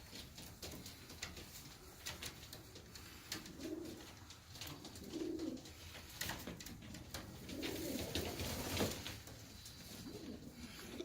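Pigeons in a loft coo softly, with several low, rolling coos rising and falling at moderate distance over a quiet background of faint rustling and clicks.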